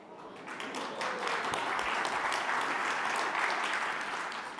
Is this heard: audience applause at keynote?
yes